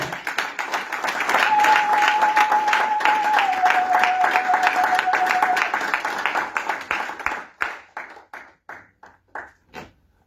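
A church congregation applauds during a revival service, loud dense clapping that holds steady for several seconds, then thins into scattered individual claps before fading out.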